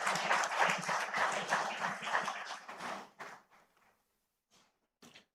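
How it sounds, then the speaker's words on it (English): Audience applause welcoming a speaker at a banking conference, a dense burst of clapping that thins out and fades to scattered claps and silence within a few seconds. "please welcome him with a round of applause"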